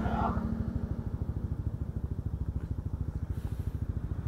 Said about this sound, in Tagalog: Ayan na sila yung mga motor. Marami yan eh. Sunod-sunod yan.